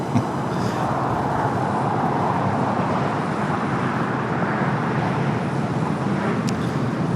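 A Boeing 777-300ER airliner at LAX airport produces a steady, broad roar at a distance, a continuous jet rumble blended with surrounding airport and road noise, with no pauses throughout.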